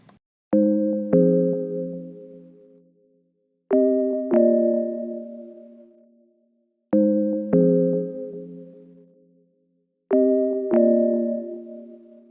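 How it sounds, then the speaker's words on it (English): Four bright, pure sine-bell chimes from the Unison Unisynth synthesizer, each a quick double strike ringing out and fading, spaced evenly about three seconds apart with silence between. "So I created this sine bells right here."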